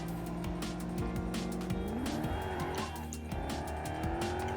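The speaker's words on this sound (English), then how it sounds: "Slides when it turns, that's for sure." Car tires squeal and skid through a turn on a BMW, with the engine droning steadily underneath; the screech is loud, continuous and close, bending in pitch as the car slides.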